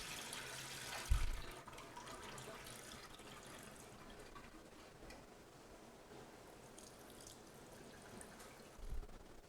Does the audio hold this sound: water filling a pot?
yes